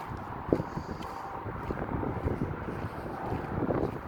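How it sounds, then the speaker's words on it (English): Wind rushes and buffets the microphone during an outdoor night stroll, a low rumbling gusty roar with a few sharper bumps, steady throughout. "It's a little windy."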